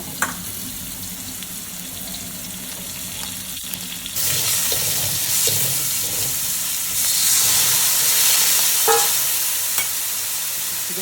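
Ginger and garlic frying in a pan, a steady sizzle that jumps louder twice as ingredients hit the hot oil, with a few clinks of utensils and stirring.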